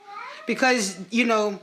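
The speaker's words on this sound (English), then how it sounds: "sorry, that's my cat. She starts to get a little wacky during the readings." A pet cat meows loudly and close by in two drawn-out, wavering yowls, with a person talking over them.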